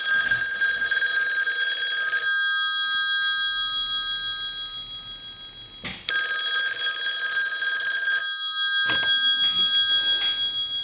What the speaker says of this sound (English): Let's ring the phone.